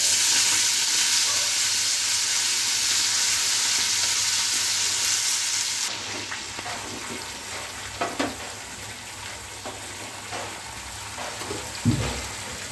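Gongura leaves dropped into hot oil with curry leaves for an Andhra-style gongura pickle. A loud, steady sizzle fills the first half, then eases into quieter frying with occasional stirring scrapes.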